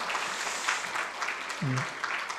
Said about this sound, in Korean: 우리 크게 환영의 박수를 보냅니다.